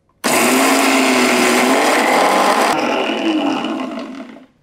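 A small mixer grinder coarsely grinds a handful of mixed lentils for sandge, with a loud, close, steady whirring roar that starts abruptly, runs about four seconds and winds down at the end.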